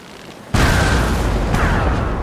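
Ship cannons fire in a naval battle, a sudden loud booming blast that swells into a dense, sustained roar, with a second heavy report about a second later under the continuing rumble.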